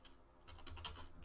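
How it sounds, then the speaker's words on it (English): Fingers tap out a short command on a computer keyboard, a quick run of close, crisp keystroke clicks with no voices. "we're going to type in npm run"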